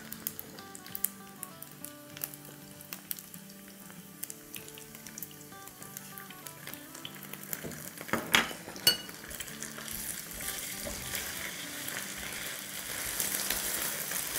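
Ginger and garlic paste sizzles in hot oil in a pan while aloo matar pulao is cooked, a quiet crackling fry broken by occasional clinks of a utensil, growing busier toward the end.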